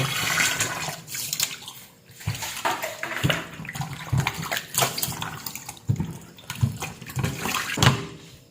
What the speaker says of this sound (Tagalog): Hugasan ang pork na mabuti.